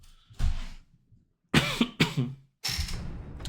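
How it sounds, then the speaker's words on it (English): A series of harsh, close coughs in separate bursts, some breathy and strained, with short silences in between. "Cough, cough."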